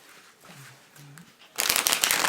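After a quiet moment with faint murmuring, a dense, loud riffling of a Rider-Waite tarot deck being shuffled starts up close and continues steadily.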